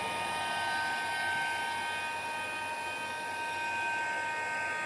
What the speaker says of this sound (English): you just get a heat gun for this